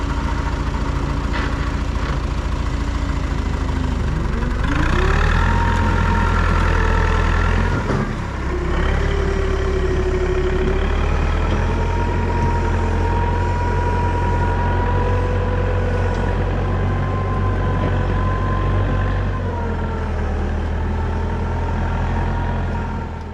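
A ute stuck in a driveway mud bog runs its engine in a long, loud, steady drone, pitch rising briefly as the driver tries to power out, then settling back to a labouring idle.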